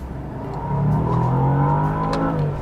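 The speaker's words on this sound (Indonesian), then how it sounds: "Aduh, suara V8-nya gila." A 2023 Bentley Continental GT's V8 engine revs up from inside the car, its loud, throaty drone climbing in pitch and holding steady for a couple of seconds before easing slightly.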